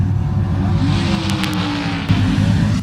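Drag racing cars roar loudly at the 1971 NHRA Winternationals, one of them a Plymouth Barracuda, with a dense, steady engine drone close up and a brief surge partway through.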